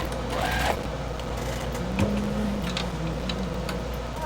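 A sewing machine runs steadily, sewing up a quilted scrappy tote bag, its rapid mechanical chatter continuous and fairly close, with faint ticks and handling sounds over the top.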